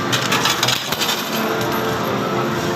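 A continuous cascade of coins from an arcade jackpot machine clatters and jingles into a metal tray, loud and close, with dense overlapping impacts throughout.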